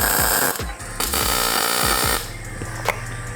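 Mounts are tack welded onto a truck chassis, a loud, close crackling buzz in short bursts with brief gaps, no one talking.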